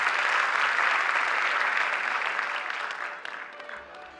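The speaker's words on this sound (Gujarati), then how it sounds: "બધા આપણે તાળીઓથી વધાવી લેજો પ્લીઝ" Audience applause at an inauguration ceremony, a burst of dense clapping that holds steady and then thins out and fades over a few seconds.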